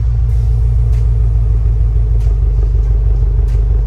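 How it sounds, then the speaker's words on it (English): A low, steady engine rumble from a manual car idling, heard from the exhaust at the back, constant and fairly loud with a smooth deep drone. "Let's hear the exhaust in the back."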